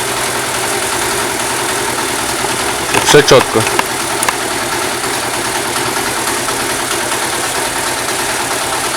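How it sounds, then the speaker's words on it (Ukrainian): A Mustang 125 scooter engine idles steadily after a cylinder head repair, a close, even putter with a faint knock, while someone speaks briefly over it. "Але робить тихенько мотор."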